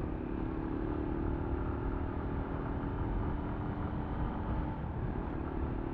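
Motorcycle engine running steadily at mid RPM through clutchless upshifts into fifth gear on an Earl bike, a continuous close drone with no clear rev breaks, no talk.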